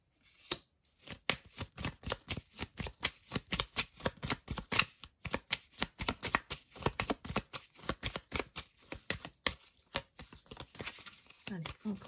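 Playing cards shuffled and drawn during a French-language card reading, giving a dense run of quick riffling and flicking bursts through the whole stretch with a voice speaking over them.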